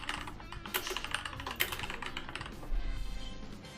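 Someone types rapidly on a computer keyboard with dense, uneven clicks and a few louder key strikes, close and clear, during a live session of the game Team Fortress 2.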